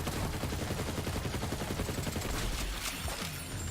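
Rapid automatic gunfire from a Borderlands 3 video game, a dense continuous burst of loud shots filling the whole stretch with no pause.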